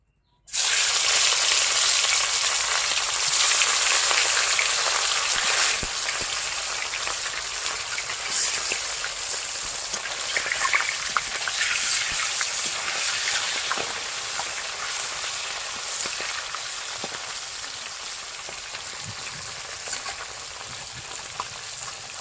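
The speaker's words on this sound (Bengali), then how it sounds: "এই সরিষার তেল গরম হয়ে গেছে আমি এবার মাছগুলো ভেজে নেবো" Fish frying in hot mustard oil in a kadai, a loud, steady, crackling sizzle that holds for the whole stretch with no voices.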